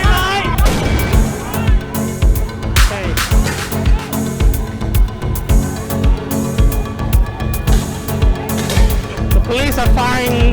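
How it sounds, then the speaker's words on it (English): Tear gas canisters fired by police at a street protest in Thailand, with repeated sharp bangs and pops over a loud, dense crowd din, and voices shouting throughout. "Police are firing what I believe to be tear gas canister after some blast launched by probably the demonstrator."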